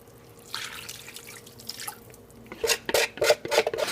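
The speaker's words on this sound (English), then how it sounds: "So you just pour the sauce over the meat." Sauce poured over meat in a crock pot, soft dribbling and wet splashes that build to a cluster of louder drips near the end, close and without talk.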